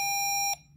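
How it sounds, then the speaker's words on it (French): A steady electronic beep from an Arduino accelerometer seismic sensor holds one tone for about half a second, then cuts off abruptly into quiet room hiss. "Quand cette phase de réglage est terminée, il y aura un long bip."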